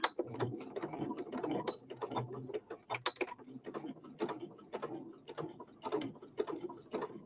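A sewing machine straight-stitches right along the folded edge of fabric for a machine cover, giving close, quiet bursts of mechanical ticking and whirring that start and stop unevenly.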